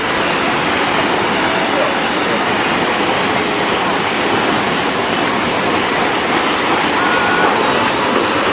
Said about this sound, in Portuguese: Essa é a cachoeira mais alta, com a queda d'água maior aqui do Laos.